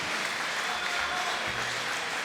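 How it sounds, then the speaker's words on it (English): A crowd at a fight event claps and cheers continuously in a dense, steady wash of applause, with some voices mixed in. "big round of applause for both fighters, Patryk, Molka, and Nika Tchikhinachvili."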